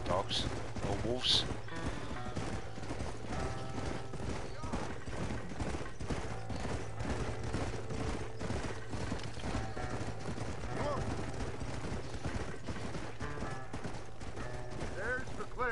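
Horse hooves clip-clop steadily in the Red Dead Redemption video game, a continuous galloping rhythm under game dialogue and ambient noise.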